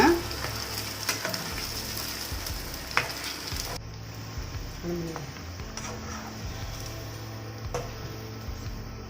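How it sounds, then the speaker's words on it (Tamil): Veg Manchurian balls deep-frying in oil over a high flame, a steady close sizzle and bubbling with occasional clicks and light utensil stirring, no voices. "நல்லா ஹை ஃப்ளேமில் வச்சு ஒரு 1 minute ஃப்ரை பண்ணி எடுத்துக்கோங்க."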